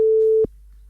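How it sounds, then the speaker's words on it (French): A single steady electronic telephone tone, loud and clear, lasting about half a second before cutting off into faint low hum. "on entend le sonnerie"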